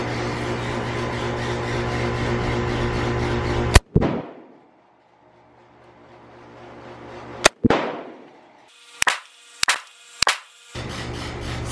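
Smith & Wesson pistol shots at a target: a sharp loud report, a second shot a few seconds later, then three quick shots in succession, each cracking close by over a steady background hum.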